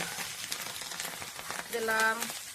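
Chopped banana flower with fish roe, onion, tomato and green chilli frying in a pan gives a soft, faint crackle with scattered pops, and a brief tonal sound rises near the end.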